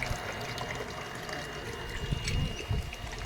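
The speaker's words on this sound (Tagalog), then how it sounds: "sumasahod tayo ng tubig pang sa lubong nila" Water from a hand-dug well pump (poso) is caught in a container, a steady low splashing wash with uneven surges, fairly close, with faint voices in the background.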